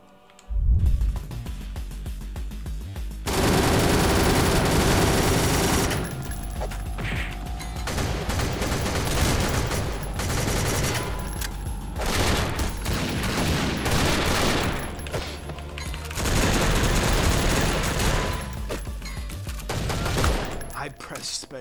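Rapid bursts of gunfire from the video game Madness Interactive Reloaded, dense and loud, with mechanical clicking and game music or effects layered throughout and brief lulls between volleys.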